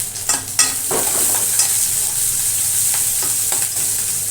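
Green chillies and grated ginger sizzle loudly in a hot pan, a steady crackling fry broken by a few scraping stirs of a spoon, cooked as the base of a Marathi pumpkin vegetable dish.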